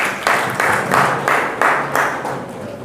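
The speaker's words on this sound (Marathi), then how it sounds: "सगळ्यांनी अभिनंदन आणि टाळ्या वाजवाव्यात" Audience applause for students at a community gathering, a short burst of hand clapping arriving in rhythmic waves, fairly close and with no talk over it.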